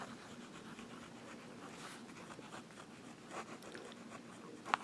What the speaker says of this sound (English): Let's try the reverse writing.